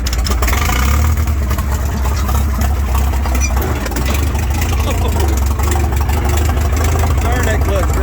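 A 1936 Farmall F30 tractor engine running under throttle, a loud, continuous mid-pitched rumble with a steady chug right up close throughout.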